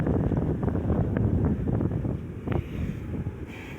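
Steady wind buffets a microphone on an open beach at low tide, a continuous loud rumbling roar with gusty swells throughout and no voices.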